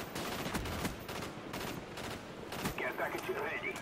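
Gunfire in the Call of Duty Black Ops video game: dense bursts of rapid shots crackle throughout, mixed with game effects and a player's voice talking over the action.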